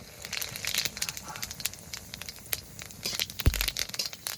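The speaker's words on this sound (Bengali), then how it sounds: "তেলটা গরম হয়ে গেছে, এবার ফোড়নে দিয়ে দেবো 2টো শুকনো লঙ্কা" Dried red chillies and whole cumin seeds sputtering in hot oil in a pan, a close scattered crackle of small pops and sizzles with a sharp knock near the end.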